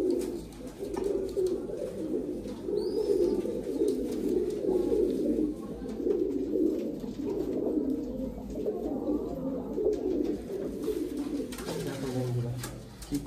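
Royal Teddy pigeons, a KTM Teddy kabootar breed, coo in a steady low murmur that runs throughout, with the loft's background hum underneath.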